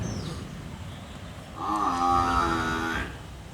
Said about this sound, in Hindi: पीछे भैंस का पड़वा, भैंस का बच्चा बोल रहा है।